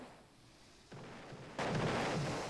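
Gunfire in the Roblox game Bridge Battles: a sudden burst of sharp shots kicks in, then a louder, denser volley takes over and keeps going to the end, with no talk over it.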